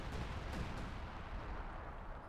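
Artillery barrage in the World War II strategy game Company of Heroes 2, a time-on-target strike landing on a capture point, heard as rumbling, overlapping booms and crackle at a low, distant level.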